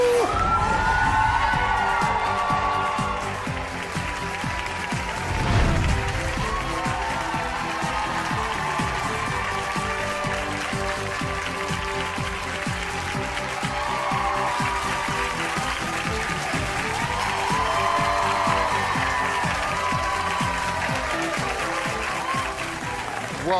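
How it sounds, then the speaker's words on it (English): A studio audience applauds and cheers on a talk show about marriage counselling, a dense, continuous wash of clapping with scattered whoops that swells slightly near the end. "Look at who's cheering for you."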